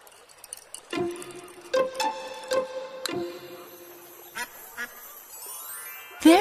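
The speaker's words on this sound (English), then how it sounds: "The duck is swimming in the stream." Cartoon duck quacking in a children's animation, several short quacks spaced apart with light jingling effects, ending in a brighter rising chime.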